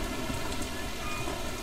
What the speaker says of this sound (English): Oh, it rains here.